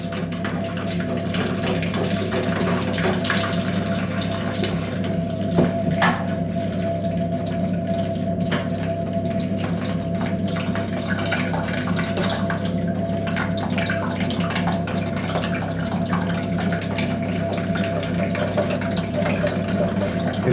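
Water running from a washing machine tap while its washer is being replaced, a steady close trickle and splash with an underlying low hum and occasional faint clicks.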